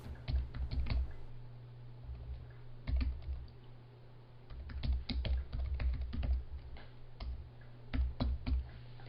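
Computer keyboard typing during a live coding session, close bursts of rapid key clicks separated by short pauses, over a low steady hum with no talking.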